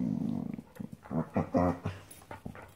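A small dog growls low and then breaks into a series of whimpering, whining yelps, close by and fairly quiet, in a home with no clear talk over it.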